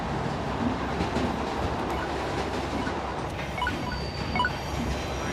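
Train running on rails as heard from inside a carriage, a steady loud rumble with faint rhythmic clicking and occasional high squeals from the wheels.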